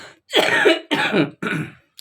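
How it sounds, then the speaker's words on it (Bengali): Three harsh coughs in quick succession, close and loud, separated by brief silences. "দেখো না কিভাবে কাশছে"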